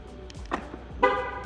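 A 2020 Mercedes S-Class gives its lock signal as the car is closed: a short, clear horn-like chirp over a quiet background, with a faint softer tone just before it.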